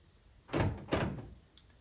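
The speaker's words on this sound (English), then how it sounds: "we should hear the door lock cycle again" Two quick mechanical thunks of a Lincoln MKX door lock actuating, close by, half a second apart against a quiet background.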